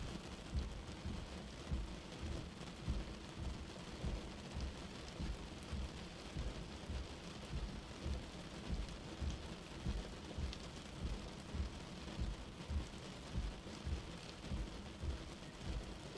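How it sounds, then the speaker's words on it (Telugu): Heavy rain pours steadily in a Coorg forest where deer shelter under trees, a dense, even hiss with low thunder rumbling beneath it throughout and no voices. "వర్షం అనేది ఫుల్గా పడుతుందండి"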